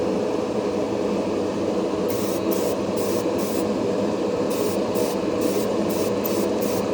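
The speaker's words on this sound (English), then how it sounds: "this black primer sprays a lot nicer, a whole lot nicer than the gray" An airbrush sprays black primer onto a Gundam plastic model kit, giving a continuous, close, even hiss of air and paint that does not pause for the whole stretch.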